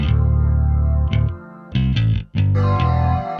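A heavily distorted, gritty bass plays a choppy riff of sustained low notes with brief gaps, loud and upfront with no talking.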